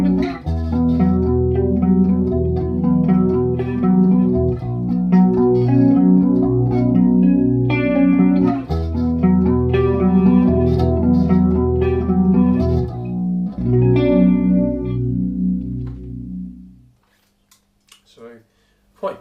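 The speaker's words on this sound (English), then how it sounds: "I was back on the flanger setting on the pedal" Electric guitar played through a TC Electronic Vortex Flanger pedal, a dirty distorted tone with sweeping, swirling modulation over sustained chords and riffs, loud and steady before ringing out to silence near the end.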